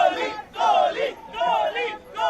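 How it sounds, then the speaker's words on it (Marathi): Cricket spectators roar in celebration of India's World Cup win, with rising crowd cheers surging in repeated waves, loud and massed. "आपण पाहतो दृश्यांमध्ये प्रेक्षक आता मोठा जल्लोष करतायत"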